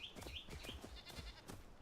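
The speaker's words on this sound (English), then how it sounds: "Bunch of sheepies, whatever they call them in this game" Sheep-like creatures in the video game Enshrouded bleat in a quick cluster of short, nasal calls, several overlapping near and quietly, followed by a few softer bleats.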